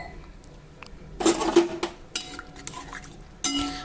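Masoor lentils stirred with water in a metal pot: a series of scraping, clinking spoon strokes against the pot, close and fairly loud, with quieter gaps between bursts.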